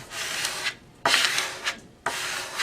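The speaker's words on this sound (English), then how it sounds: "take a handy dandy little squeegee" Squeegee smoothing pre-mask tape over cut vinyl lettering: three firm, close rubbing strokes, each starting abruptly with a raspy swish and fading before the next pass.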